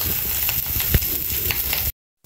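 Wild boar meat sizzles and spits steadily in hot fat in a home kitchen pan, a dense continuous crackle with a few louder pops, then stops abruptly.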